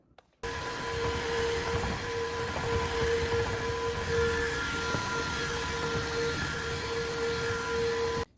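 A Tineco iFloor 3 Breeze wet-dry mop vacuum runs across a floor with a steady, loud motor whir and a thin constant whine, holding even from start to finish with no talk.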